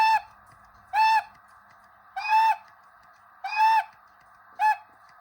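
Five short whistle toots from a model train, separated by brief pauses, each a clear tone over a faint steady hum.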